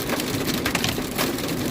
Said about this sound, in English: now we got a bunch of hail coming down too